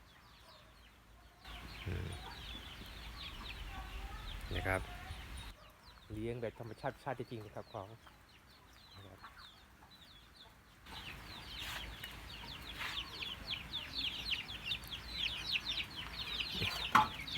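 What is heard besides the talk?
ducks and chickens in a farm pen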